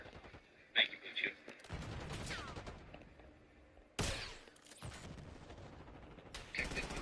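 Gunfire in Call of Duty Black Ops 6, several sharp bursts of shots with rattling automatic fire separated by quieter gaps, mixed with other game noise.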